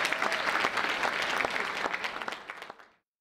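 An audience at a lecture claps steadily for a couple of seconds, then the applause thins out and fades to silence.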